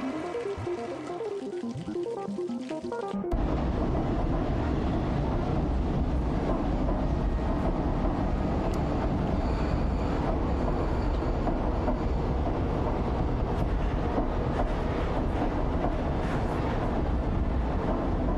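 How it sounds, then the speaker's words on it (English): Steady, loud rumble and rattle of a train ride in the video game Stray, a continuous rolling clatter that begins abruptly after a few seconds of quieter game sound. "Now we're riding the train."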